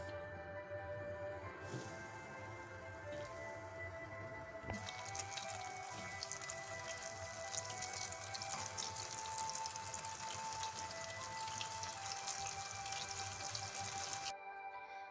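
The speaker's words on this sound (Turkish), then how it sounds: "Arkadaşlar kaşar kroketlerimizi kızgın yağımıza atıyoruz" Cheddar cheese croquettes drop into hot oil and fry, a soft hiss that jumps to a loud, crackling sizzle partway through and keeps bubbling close by without speech.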